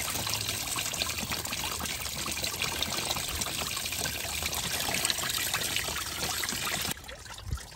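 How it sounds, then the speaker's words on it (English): Coolant draining from a Mercedes engine during a water pump job, a steady continuous trickling pour of liquid that stops abruptly near the end. "so we got coolant draining"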